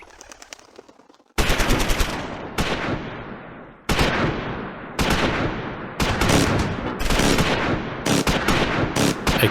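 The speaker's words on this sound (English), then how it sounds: "A crossfire on German infantry near the 2-story building" Crossfire on German infantry in the World War II video game Close Combat 4, Battle of the Bulge at Houffalize: sharp volleys of rifle and machine-gun fire in repeated loud bursts, some rapid rattling strings, with faint bird calls early on.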